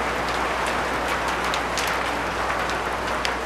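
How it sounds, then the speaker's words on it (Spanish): Steady rain falls outdoors at night, a continuous hissing patter with scattered sharper drops striking nearby surfaces, close and even throughout with no voices. "está lloviendo"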